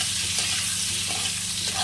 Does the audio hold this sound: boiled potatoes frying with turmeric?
yes